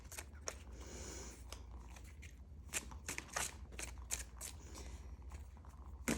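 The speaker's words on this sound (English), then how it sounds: "As I shuffle, of course," Tarot cards shuffled by hand, a series of crisp riffling and flicking bursts at an irregular pace, close and soft, with no talking.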